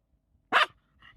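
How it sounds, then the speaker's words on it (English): One sharp dog bark, close and loud, followed by a softer, shorter yip. "They don't like your barking, that's for sure."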